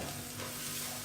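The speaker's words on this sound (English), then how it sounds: "Now add 1 tablespoon of butter. Add 2 tablespoons of all-purpose flour. Now mix continuously" Butter and all-purpose flour stirred together in a pan over low flame for a white sauce, a steady soft sizzle with continuous scraping, close and even throughout.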